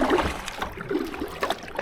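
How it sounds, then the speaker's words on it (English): A carbon fibre kayak paddle pulls steadily through the water at normal cruising pace into a slight headwind, giving soft splashes and drips close by with a gentle rhythmic wash. "pull the paddle steady like I did before"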